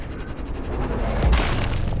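A sniper rifle shot in the video game Sniper Ghost Warrior Contracts 2, a single deep booming report about midway through over a low rumbling game background, with no talking.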